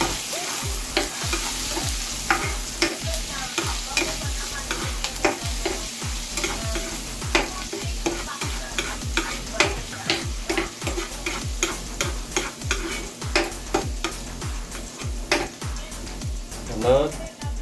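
Ginger frying in a pan, a continuous sizzle punctuated by regular, rhythmic scraping and tapping of a spatula against the pan, close and fairly loud, with occasional talk.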